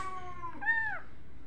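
A young kitten of about three to four weeks, found in a cardboard box by a quiet roadside, gives one clear rising-and-falling meow, close and fairly soft, with no talk over it.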